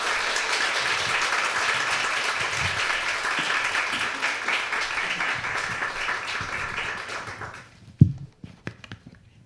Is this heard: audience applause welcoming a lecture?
yes